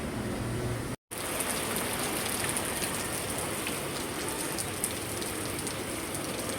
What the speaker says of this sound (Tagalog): Grabe po kalakas ng ulan.